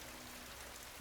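Steady rain falls in a monsoon downpour on a street where water has pooled on the road, a continuous soft hiss with no voices.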